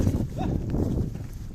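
Rapid hoofbeats of a running Belgian draft stallion thud steadily nearby, with a voice speaking over them.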